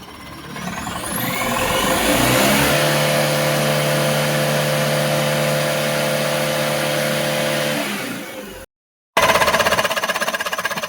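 A Tata Mega car with a misfire and low pickup fault revs up and holds a high, steady engine note for several seconds before dropping off. After a brief cut, the engine continues running loudly.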